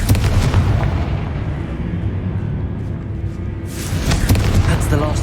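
Repeated fiery blasts from the Confringo spell in Hogwarts Legacy, with loud booming bursts rolling one after another and a sharper crackling burst near the end, spoken voice occasionally heard over the game sounds.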